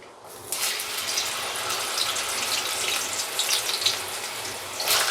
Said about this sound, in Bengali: আমি তরকারিগুলো ঢেলে দিলাম সব এর মধ্যে।